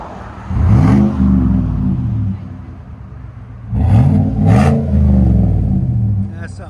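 A 2019 Chevy Tahoe with a 5.3L V8 and Flowmaster Super exhaust revs hard in two long bursts, a deep, loud, rumbling roar over a steady idle, heard up close from outside.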